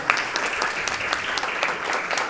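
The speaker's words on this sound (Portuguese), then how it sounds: "Por favor, uma salva de palmas." An audience claps steadily throughout at an academic round-table event, the sound even and sustained without a clear peak.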